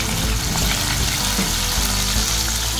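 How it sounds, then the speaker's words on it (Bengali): Cut okra fries in a pan with a dense, continuous sizzle that holds loud and steady throughout, with no voices. "ভেন্ডি ভাজা করা হয়ে গেছে।"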